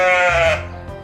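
A single loud, close sheep bleat at a petting zoo, a wavering call about half a second long that fades out quickly.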